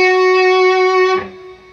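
Electric guitar melody: one bright sustained note held for about a second, then sliding into a softer note, close and alone.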